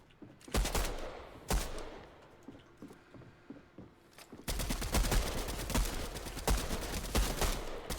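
Rapid gunfire in Fortnite, with sharp single shots early on and then a sustained, loud rattle of automatic fire crackling through the second half, heard alone without speech.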